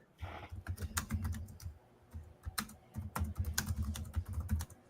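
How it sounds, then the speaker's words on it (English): Rapid clattering keystrokes on a computer keyboard, close and fairly loud, in irregular bursts with brief pauses, with no voices. "I hear the typing going on."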